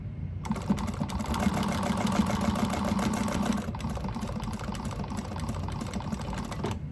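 A sewing machine runs steadily while stitching a bag strap for an Aurora bag, a dense continuous mechanical whir that lasts nearly the whole clip, dipping slightly in intensity partway through, with no talking.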